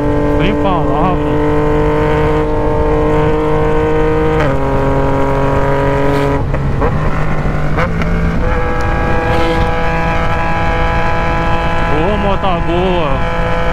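Yamaha Tracer 900 motorcycle engine and exhaust revving loudly and continuously close by, with steady droning tones that rise and fall in pitch through several throttle changes, under occasional talk.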